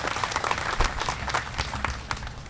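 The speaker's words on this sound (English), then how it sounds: "let's give them a round of applause" Outdoor crowd at an annual picnic at the Wyoming State Fair applauds, a brief, fairly faint and uneven patter of claps heard from a distance.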